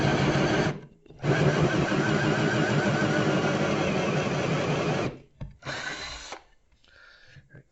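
An iit hole saw drills a hole in loud, sustained bursts of grinding, whirring power-tool noise, then stops, restarts briefly and winds down; no one speaks.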